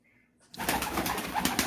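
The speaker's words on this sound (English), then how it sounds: "This fucking bird." After a quiet moment, a pigeon bursts into loud, close cooing, a continuous throaty warble with soft repeated pulses that runs to the end without any talk.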